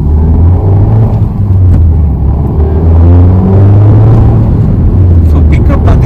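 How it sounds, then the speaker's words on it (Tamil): A small 82 bhp car drives along with a loud, continuous engine rumble and road noise that rises as it accelerates, heard from inside the cabin, while someone talks over it. "கொஞ்சம் டிரைவ் பண்ணி ஓட்டி பார்க்கலாம்."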